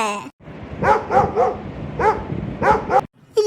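A cartoon dog barks in quick bursts of two or three yaps, about six sharp barks in all, loud and close, with brief voices at the very start and end.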